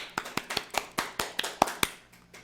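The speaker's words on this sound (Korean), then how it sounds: "여러분 여기서 박수 한번 쳐야 돼요." A church congregation claps together during a sermon, about nine sharp claps in a steady rhythm that fade out toward the end, with no talking over them.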